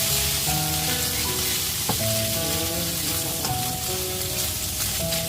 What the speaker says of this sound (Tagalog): igisa na natin mamaya yung onion at garlic